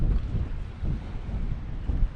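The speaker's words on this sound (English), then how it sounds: "this wind has picked up. You probably can hear it now." Gusting wind buffets the microphone on a seaside pier at Whitehaven, Cumbria, a loud low rumbling roar swelling and easing in waves with no voices.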